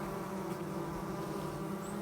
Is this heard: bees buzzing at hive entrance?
yes